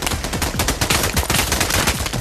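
Rapid, continuous automatic gunfire in the virtual reality shooter Pavlov VR, loud, dense bursts of shots overlapping for the whole stretch with no pauses.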